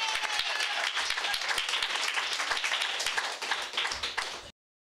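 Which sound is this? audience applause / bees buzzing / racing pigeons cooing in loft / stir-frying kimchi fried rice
audience applause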